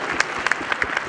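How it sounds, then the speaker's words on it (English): Audience applause at a panel on Mississippi's post-pandemic economy, a short burst of steady clapping from the room, fairly close and even, with sharper individual claps standing out. "I think that deserves a round of applause."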